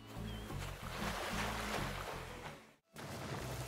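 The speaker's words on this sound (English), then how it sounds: "The sound of waves? Yes." Ocean waves wash against the shore in the video game Animal Crossing: New Horizons, a steady, soft surf murmur with a brief dip near the end and no talking.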